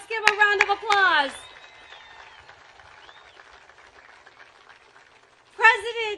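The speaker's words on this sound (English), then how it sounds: "Let's give him a round of applause." A crowd claps and cheers to welcome President Donald Trump at a speech in the Port of Corpus Christi, Texas, with a burst of applause, a softer stretch of murmuring and a fresh swell of clapping at the end.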